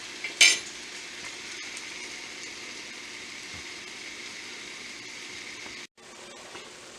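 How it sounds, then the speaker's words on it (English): A big spoonful of minced garlic drops into a soup pot for chicken gnocchi soup: one sharp metallic clink of the spoon, then a low steady sizzle and faint stirring. "I'm going to throw in this big spoon of minced garlic"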